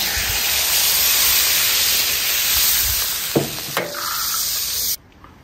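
Water poured into a hot pot of seasoned beef makes a loud steady sizzle and steam hiss that surges briefly near the end before cutting off abruptly.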